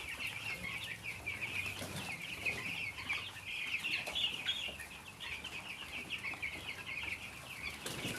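Broiler hens in Kenya cluck and murmur continuously at close range, with soft fluttering and rustling from a flock in the background.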